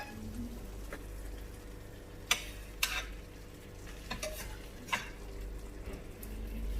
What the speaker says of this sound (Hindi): अब जरा इन शिमला मिर्च को थोड़ा सा आगे पीछे करते हैं, उलट पलट कर देते हैं।